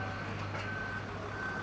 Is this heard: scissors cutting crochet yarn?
no